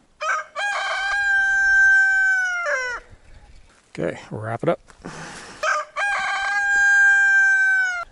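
A young homestead rooster crows loudly and close, two long cock-a-doodle-doo calls at the start and end with a short spoken phrase and some clucking in between.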